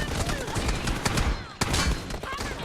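Rapid bursts of gunfire in the mobile battle royale game PUBG Mobile during a team deathmatch with M24 and Kar98 rifles, dense and continuous with sharp loud shots and a brief pause near the end; a voice talks faintly underneath.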